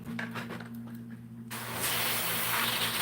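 An airbrush spraying paint into a small cup gives a close, loud, steady broadband hiss that starts abruptly partway through and holds, following a quieter stretch with a low hum.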